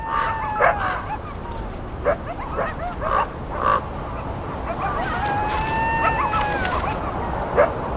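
Coyotes yip and bark in Yellowstone, with short high calls scattered irregularly over a noisy outdoor background, some overlapping, moderately close.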